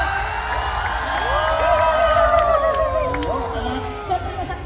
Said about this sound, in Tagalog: Pwede bang palakpakan may halong hiyawan?